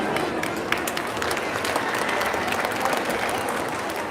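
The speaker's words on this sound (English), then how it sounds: "can we give you a very big round of applause" Audience applause at a school district arts showcase, a dense, even wash of clapping from a large crowd, moderately distant and sustained for several seconds.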